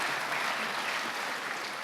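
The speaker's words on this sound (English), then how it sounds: "Round of applause for saving the space station." Crowd applause at a talk on the International Space Station, a brief, thick burst of many hands clapping together, steady and fairly close, with no voices on top.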